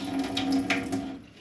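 Water is poured off tomato seeds soaking in a container, a short close splashing trickle that stops abruptly near the end.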